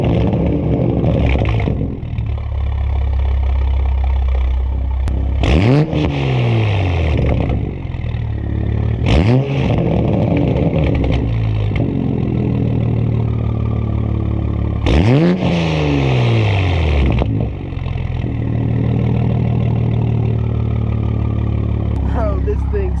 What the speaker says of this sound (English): let's go ahead and take a listen to a warm start and some revs not in sport mode.